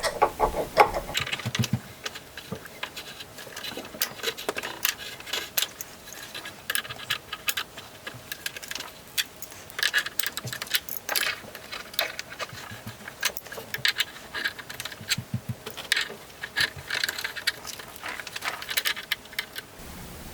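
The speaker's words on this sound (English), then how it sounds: "Grab your crescent wrench and start tightening." Crescent wrench tightening the barrel nut on a rifle with a handguard, giving a steady run of small metallic clicks and scrapes close up, with no talking.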